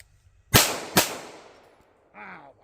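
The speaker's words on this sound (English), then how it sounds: "I'm going to pick out one of those bullet holes there in the center and shoot a couple of this" Two sharp, loud pistol shots from a Glock 17 Gen3 fired at a range target in quick succession, each with a short echoing decay, followed by a brief faint mechanical tone.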